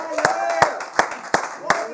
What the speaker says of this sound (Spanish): lo vamos a pedir con este aplauso y estos gritos de la gente